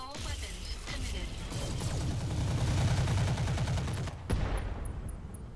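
Mech weapons and missiles fire in a video game as a dense, sustained barrage of rapid gunfire and blasts, building louder through the middle before a sharp impact near the end and a thinner tail.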